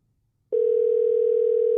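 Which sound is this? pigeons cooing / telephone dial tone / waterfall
telephone dial tone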